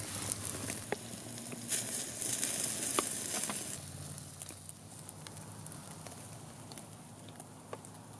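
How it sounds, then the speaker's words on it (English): Steak sizzles over an outdoor campfire during a sleet storm, a steady crackling hiss with occasional pops, louder at first and then settling lower. "Listen to the sizzle,"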